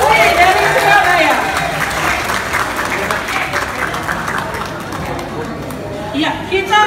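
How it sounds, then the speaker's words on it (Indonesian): Audience applause at a dangdut competition announcement event, loud clapping and crowd noise that gradually eases, with cheering and chatter mixed in. "Tepuk tangan untuk Mbak Diana Putri dari Surabaya."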